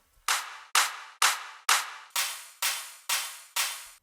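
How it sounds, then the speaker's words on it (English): Eight bright white-noise claps from a big room drum layer in FL Studio, struck in a steady even rhythm, each a sharp hissy burst with a quick decay; the last four sound thinner and airier than the first. "So we've got some basic claps here."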